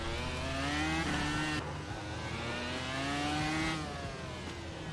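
A car's engine revs and shifts through gears as it drives on a track and bumps over a curb, a steady mid-pitched drone rising and falling up close.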